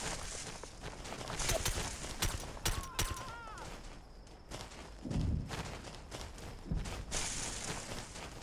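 Gunfire in the Navy SEAL shooter game SOCOM US Navy Seals 3 comes as irregular clusters of sharp shots and thuds mixed with running footsteps, moderately quiet with scattered game sounds between bursts.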